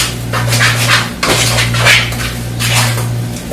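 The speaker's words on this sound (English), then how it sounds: "So let's stir that all together." A spoon stirs parsley and garlic salt through a bowl of mashed potatoes, with soft repeated scraping and thick, squelching strokes over a steady low kitchen hum.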